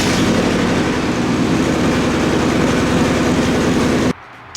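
A Nissan 240SX engine running on jack stands with an exhaust leak, a loud, rough, continuous rumble close by that cuts off abruptly near the end.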